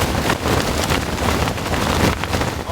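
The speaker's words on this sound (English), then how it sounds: "That's critical wind gust" Strong wind gust tearing through a campsite during a heavy storm with rain, a loud dense broadband rush that surges and buffets close to the microphone for a few seconds.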